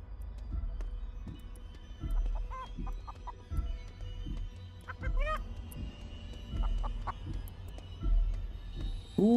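A giant chicken in the game Chicken Feet: Breakout clucks and honks in short bursts amid low thumping footsteps, the calls scattered and fairly faint with no talk.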